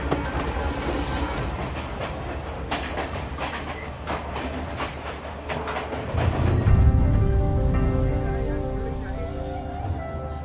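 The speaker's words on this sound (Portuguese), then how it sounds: "Embarcamos no trem para viajar até o coração do Sri Lanka." Crowded passenger train rolling through Sri Lanka, steady rumbling clickety-clack of wheels on rails that swells louder midway, with faint voices in the carriage.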